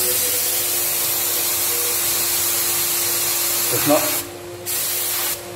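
A Graco 9.5 Pro Contractor HVLP spray gun spraying, a loud steady hiss of air and paint that cuts off briefly near the end, with a short spoken remark over it.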